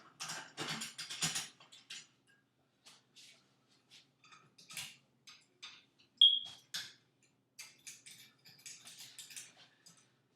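A winch on a Coops Bowsmith Pro bow press lets off its tension in a run of sharp ratcheting clicks and mechanical ticks, close and fairly quiet, with short pauses between bursts.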